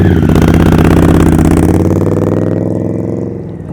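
An Indian Scout motorcycle with a performance exhaust revs hard and close, a loud, throbbing mid-range engine roar that holds steady and then eases down as the throttle drops off.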